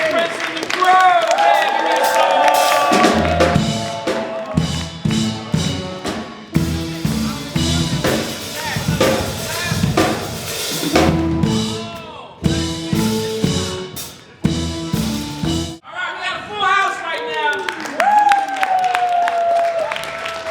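Loud, continuous applause and cheering from a crowd, sustained with music and voices mixed in, swelling and dipping in energy throughout.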